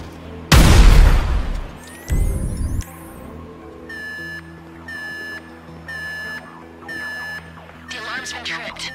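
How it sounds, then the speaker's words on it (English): A loud, close explosion blasts a door open in GTA V, followed by a shorter second burst and then a string of evenly spaced electronic alarm beeps. "An explosion will tend to do that."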